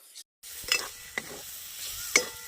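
Tomato tipped into a pan of spice masala cooked down with turmeric, stirred through with a few distinct scraping strokes over a soft, steady sizzle.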